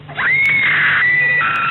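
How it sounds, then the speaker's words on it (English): One loud, sustained high scream from an old horror film rings out alone for almost two seconds, steady and piercing from start to finish. "Practice your screams."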